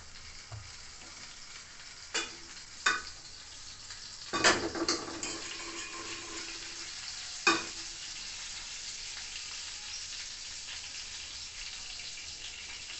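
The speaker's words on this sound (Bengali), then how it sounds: "একটু কালো জিরে ফোড়ন দিলাম" Black cumin seeds dropped into hot oil for tempering sizzle with a steady fry hiss, broken by several sharp clinks and scrapes of a utensil against the pan, close and fairly loud.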